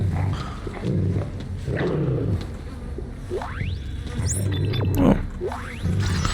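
Growling creature resembling a genetically modified dog in the Dead Space video game, with low rumbling snarls and rising screechy cries, plus several sharp upward-sweeping calls midway, close and fairly loud over a dark ambient background.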